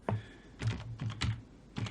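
A handful of separate keystrokes clack on a computer keyboard, close and crisp, with short irregular gaps between them and no talking.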